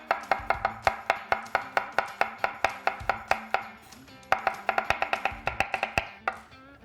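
A kitchen knife chops garlic on a cutting board in steady, quick strikes, about two dozen crisp close taps with a short pause partway through and no talking.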